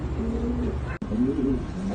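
Pigeons coo softly in low, rolling calls, steady against a constant background hum, with a brief dropout midway.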